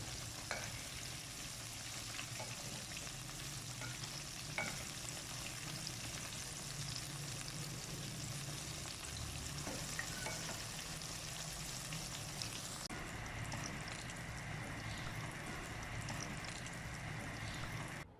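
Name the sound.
eggplant pakoras deep frying in oil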